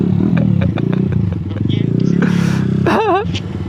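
An Aveta Marvel 150 motorcycle modified for offroad riding, its small engine chugging with a rhythmic pulse that rises briefly, close and loud, while a voice talks and whoops over it.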